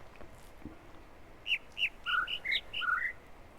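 Short bird chirps and whistled calls in the video game The Witness, a series of quick bright notes in a loose irregular rhythm over a faint outdoor ambience, with no talking.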